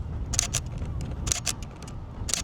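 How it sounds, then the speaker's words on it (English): Canon EOS RP shutter firing three times at roughly one-second intervals, each a sharp, close double click of the shutter mechanism over faint background noise. "that for me is the worst shutter sound that I've ever heard on a camera"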